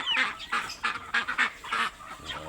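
Farmyard ducks, including yellow-billed Peking ducks, quacking and honking in a series of loud, close bursts with short gaps between calls.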